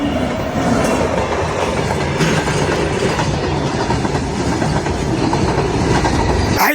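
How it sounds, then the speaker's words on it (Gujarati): A train rumbles past close by, loud and continuous, with rhythmic clickety-clack of wheels on rails and a brief squeal near the end. "ટ્રેન આવી ગઈ ટ્રેન"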